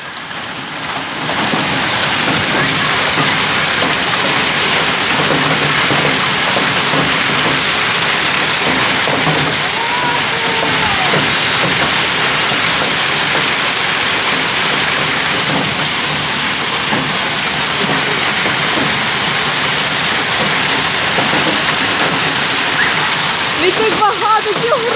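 Large hail pours down outdoors in a dense, loud, unbroken roar of countless impacts and splatters, with a voice faintly audible at moments.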